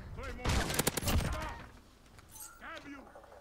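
Shotgun fire from a 725 shotgun in a first-person shooter video game, a burst of loud, sharp blasts close together early on, with someone talking over and around the shots.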